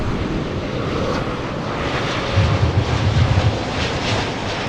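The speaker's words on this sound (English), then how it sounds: "This one coming in from Montreal, Canada. Flight 777, look at this." A Boeing 737 MAX 8 airliner arriving from Montreal at Los Angeles International Airport gives a steady broadband engine roar, distant and constant, swelling slightly midway, with wind noise over the microphone and no talk.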